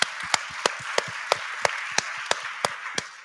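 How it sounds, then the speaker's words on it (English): Audience clapping at a direct air capture conference: a run of evenly spaced, sharp claps over a soft, diffuse crowd bed, fairly close, with no talk. "Give Kobe a round of applause."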